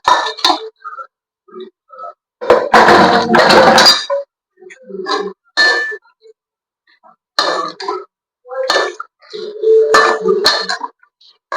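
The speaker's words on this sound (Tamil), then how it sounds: "இப்ப கத்திரிக்காய் போட்டுருவோம்" Brinjal (eggplant) pieces tumble into a metal cooking pot with scattered clinks, knocks and clatters of utensils in irregular bursts separated by quiet gaps.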